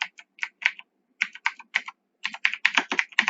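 Someone types on a computer keyboard close to the microphone. The keys click in quick bursts with short pauses between them, in a quiet room.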